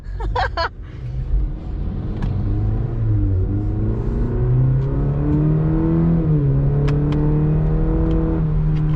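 A 2021 Cadillac CT4-V accelerating hard at about three-quarter throttle, heard from inside the car: a loud, steady engine rumble whose pitch climbs through the revs with a brief dip at a shift, continuous for the whole stretch.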